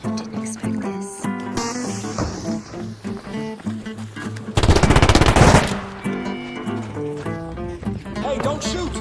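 Rapid automatic gunfire in the video game ARC Raiders, loud and close. Bursts of shots come in quick succession over a constant low hum, then one dense, sustained volley.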